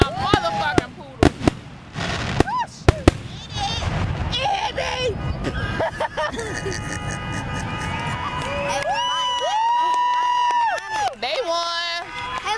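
Fireworks burst outdoors at a family day event, with sharp pops and bangs in the first few seconds, then crackling and whistling amid crowd noise, cheering and people talking throughout.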